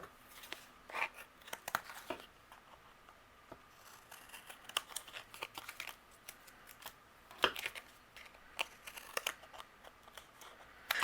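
Scissors trim excess paper from a handmade card panel, a string of quiet, sharp snips and crinkles in irregular bursts, close and alone with no talk.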